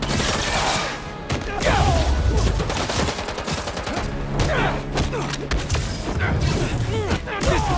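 Gunfire rattles through a chaotic Marvel's Spider-Man 2 fight, with loud bursts and crashes and a low rumble throughout, mixed with scattered impacts and voices.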